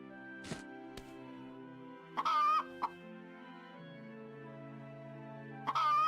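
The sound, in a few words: chickens clucking in a farming video game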